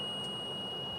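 A laser level receiver on a front bucket during grading holds a steady, continuous high electronic tone over a low background hum.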